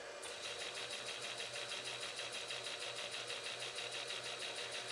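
A shop-built welding rotary table turns on a 100-to-1 worm drive underdriven by a 1-inch to 2.5-inch pulley, giving off a steady, quiet mechanical whir and hum that carries on evenly throughout.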